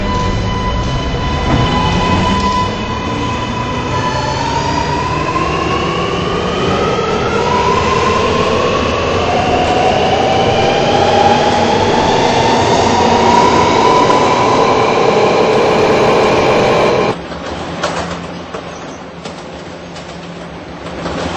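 An R211 subway train on the R local line runs steadily and loudly, its motor whine rising in pitch as it accelerates, with wheel hum and rumble throughout, then an abrupt drop to a quieter rattling interior hum near the end.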